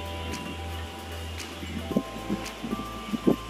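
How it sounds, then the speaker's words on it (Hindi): Strong wind gusts blow across a home balcony under dark clouds, a broad rushing roar with low rumbling buffets and scattered rustles and knocks in the second half. "देखिए कितनी हवा चल रही है, बहुत ज़्यादा हवा चल रही है"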